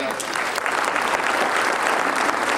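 Loud, dense applause from an audience at a Brahma Kumaris inauguration event in Ambala City, a steady wash of many hands clapping at once throughout.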